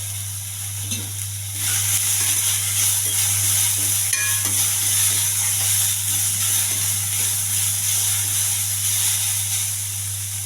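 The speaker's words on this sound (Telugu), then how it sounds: "బాగా కలపాలండి" Millet upma mixture with tomato, salt and onion being stirred in a hot pan, a steady loud sizzling hiss with faint scraping over a constant low hum.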